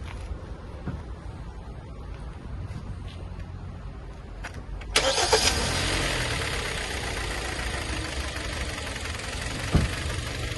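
A Kia Sportage 2012 engine cranks and catches partway through, then settles into a steady, rumbling idle close by.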